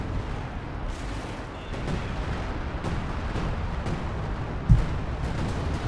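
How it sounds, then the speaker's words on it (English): An artillery strike in the real-time strategy game Company of Heroes 2: a steady rumble of distant shelling and gunfire with scattered impacts and one sharper blast near the end. "Massive artillery strike off here from Kerr"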